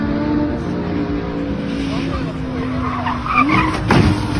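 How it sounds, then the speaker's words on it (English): A Lamborghini Huracan labours up a steep incline, its engine droning loud and strained with shifting pitch and tire scrabbling, heard close with a voice briefly over it. "A Lamborghini Huracan got stuck on a steep slope, struggling to clear the incline due to its low ground clearance."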